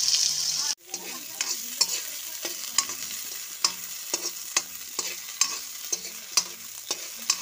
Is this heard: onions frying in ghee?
yes